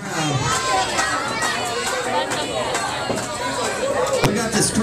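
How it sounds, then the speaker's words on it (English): A crowd at a live wrestling show cheers and shouts in a steady, loud roar of mixed voices, with an announcer's voice mixed in. "Come on, ladies and gentlemen, let's cheer for your favorites up here."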